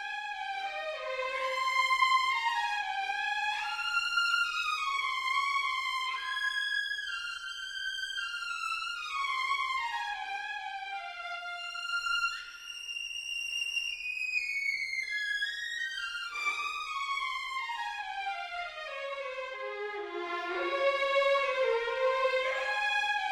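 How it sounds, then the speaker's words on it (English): A trio of violins from a sampled string library plays very loudly, with sweeping, sliding phrases that rise and fall in overlapping lines. The passage is sustained and bright and heard alone, with no voices. "the final bonus we have is the 3 violins triple forte overlay"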